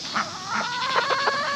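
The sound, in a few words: chickens clucking under a trampoline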